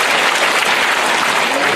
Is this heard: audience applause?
yes